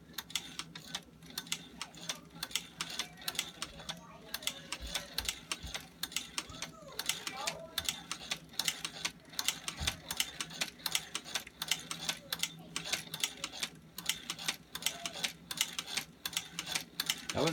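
A hand-cranked cobbler sewing machine stitches a handle onto a ski bag, giving a steady run of quiet, rapid mechanical clicks and ticks that continues throughout.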